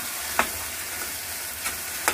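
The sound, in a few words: stirring boiled potatoes into spice mix in pan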